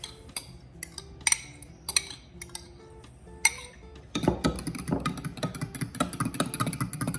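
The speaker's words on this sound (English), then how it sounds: "Whisk it all up." Egg being whisked into milk soured with vinegar for southern cornbread batter: scattered utensil clinks against a bowl, then rapid, steady whisking that continues from the middle to the end.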